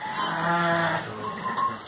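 Ewes bleat in a lambing barn, one long wavering call up close followed by a shorter, fainter bleat, with no talking.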